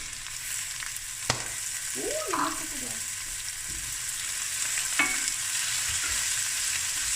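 Four cloves of garlic and red pepper sizzle steadily in a hot pan for a spicy prawn and lentil rice dish, with a few brief scrapes of stirring. The frying is close and continuous, and no one talks.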